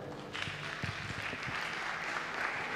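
A church congregation bursts into steady applause, dense continuous clapping filling the room at moderate loudness, close and sustained.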